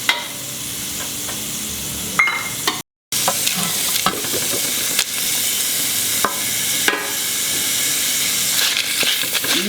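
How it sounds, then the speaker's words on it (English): Five to six garlic cloves roast and sizzle in coconut oil in a pot over a low gas flame, with a steady frying hiss broken by sharp scraping strokes of a wooden ladle stirring. "Now I will start roasting this 5 to 6 garlic cloves"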